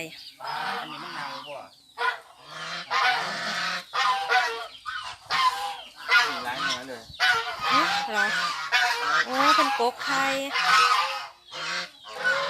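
Geese honk repeatedly in loud, overlapping bursts close by on a Thai village farm where ducks and chickens are kept, with a voice speaking briefly among them.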